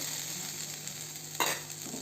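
Boiled vegetables frying uncovered in a pan, a soft steady sizzle with one brief louder scrape of stirring near the end, no voices.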